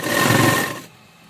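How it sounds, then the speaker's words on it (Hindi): Sewing machine stitching a rounded pocket onto a burqa: a steady, close whirring run lasting under a second that stops abruptly, with no talking. "देखिए इस तरह जेब की सिलाई करते हुए हम"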